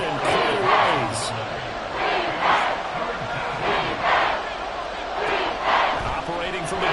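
Football stadium crowd roars in repeated swelling waves of cheering, a dense, loud wall of voices rising and falling every second or so, with a commentator's voice running underneath.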